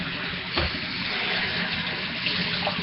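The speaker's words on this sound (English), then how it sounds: "Now we're going to have to wash your hands." Water running steadily from a kitchen tap for handwashing while baking chocolate chip cookies, a constant close hiss with a brief knock partway through and no talking.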